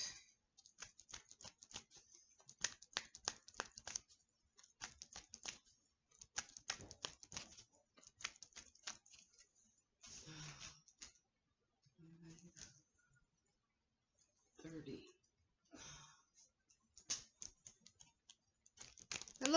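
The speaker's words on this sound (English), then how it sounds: "shuffle them up a bit" Bursts of rapid papery riffling and flicking as cards are shuffled, in repeated clusters with short pauses, close by, with a few quiet murmurs between.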